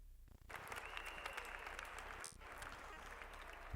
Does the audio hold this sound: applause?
yes